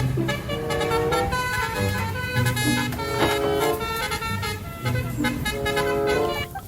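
A toy telolet bus horn plays a loud, continuous melodic honking tune with shifting bright tones, sounding alone and close throughout.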